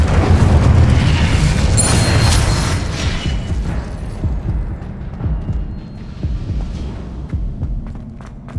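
An Incendio fire spell blast in Hogwarts Legacy during the Pensive Guardian boss fight, a loud whooshing roar at first that fades into low throbbing rumbles and scattered thuds.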